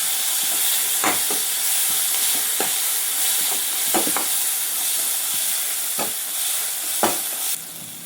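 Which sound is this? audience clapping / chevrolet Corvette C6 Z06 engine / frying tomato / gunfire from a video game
frying tomato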